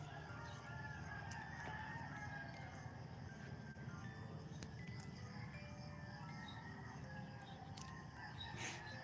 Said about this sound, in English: I'm just listening to the roosters in the background,